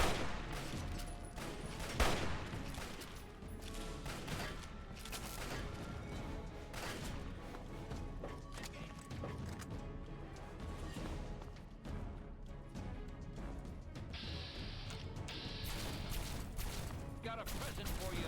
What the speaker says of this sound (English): We're trading shots with this terrible weapon.